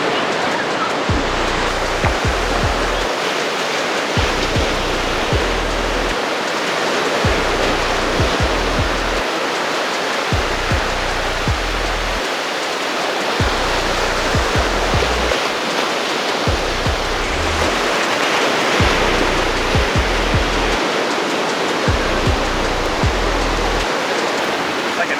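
Cold Pacific Ocean waves surging and breaking on the shore in a continuous loud wash of surf, with rhythmic low thumps as each wave rolls in.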